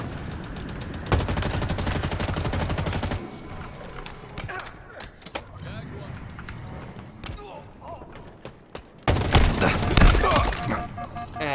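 Gunfire from the video game Halo Infinite comes in loud bursts of rapid shots at the start and near the end, with quieter scattered game effects in between.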